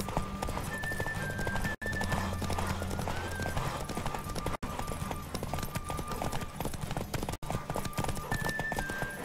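Rapid, steady hoofbeats of a galloping horse in the video game The Witcher 3: Wild Hunt, continuous and loud, with a horse whinnying briefly over the rhythmic pounding.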